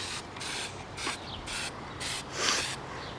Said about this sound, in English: use spray paint in a very well ventilated area